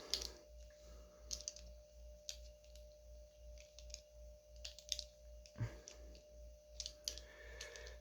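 Screws being undone from the pocket clip of a new Buck knife with a T6 driver, giving a string of small dry clicks and ticks scattered across the quiet, with a faint steady hum underneath.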